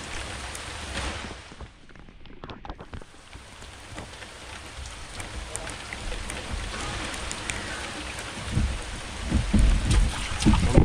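Steady heavy rain on a Kuttanad backwater while kayal fishing, a dense continuous patter with scattered louder drops and splashes building toward the end.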